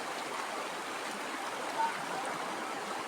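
A river flows steadily nearby, giving a continuous broadband rushing wash with no pauses.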